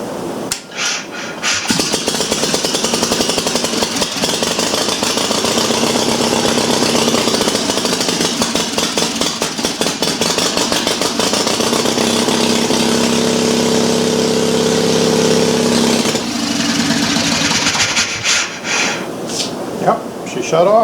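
An Onan 305 CCK generator engine cranking, catching and running with a loud, close, rough chugging drone for most of the stretch before dying away near the end, with someone talking during it.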